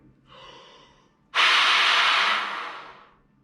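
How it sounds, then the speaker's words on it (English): A hard breath is blown through a brass trumpet leadpipe: a softer inhale, then a loud rushing hiss of air lasting about two seconds before tapering off, close and alone. "I want you guys to really blow from your bellies"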